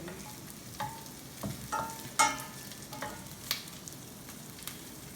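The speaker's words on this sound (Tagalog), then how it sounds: "Keep stirring until you smell the aroma of the onion and ginger." Onion and ginger stirred in a frying pan, with a run of scraping spatula strokes and clinks against the pan over a low, steady sizzle, close by and with no talking.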